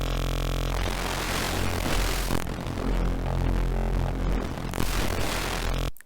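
A harsh, noisy Serum wavetable synth tone made from an ocean photo drones with gritty, shifting texture, its timbre changing in sweeps as it moves through the table, loud and steady throughout.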